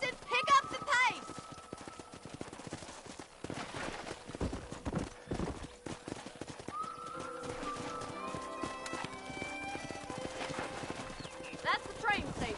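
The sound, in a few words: horses trotting in a cowboy video game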